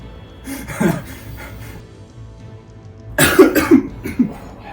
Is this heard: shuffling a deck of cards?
no